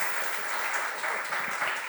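A church congregation applauding during a worship service, dense steady clapping from many hands filling the room throughout.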